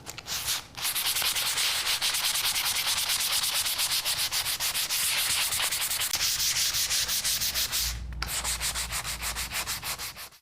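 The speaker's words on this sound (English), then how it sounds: "then I'm just going to start sanding all over" Steady abrasive sanding against a wooden sign, a continuous scratchy rasp with rhythmic back-and-forth strokes and a brief pause near the end.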